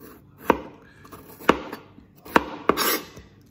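Four distinct knife chops through fresh ginger on a cutting board, sharp close knocks spaced irregularly about a second apart, with soft scraping in between.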